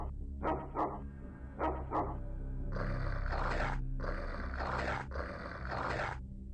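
Dog in the X-Com Files strategy game giving a series of short gruff barks, first in spaced pairs then longer rough growling bursts, fairly loud and alone.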